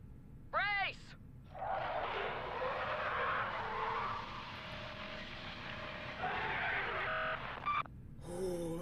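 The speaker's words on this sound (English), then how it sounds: "hearing the sounds of it roaring and ripping the place apart, oh, that's so eerie" Roaring creature and tearing, wrecking destruction in the Subnautica game, a loud sustained rumbling surge with shrieking swept tones at the start and scattered electronic beeps near the end.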